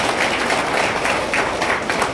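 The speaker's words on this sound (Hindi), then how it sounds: "जोरदार तालियां बजाते रहिए" An audience at a silk-farming training camp for farmers claps loudly, a dense, continuous patter of many hands with small swells, filling the whole moment.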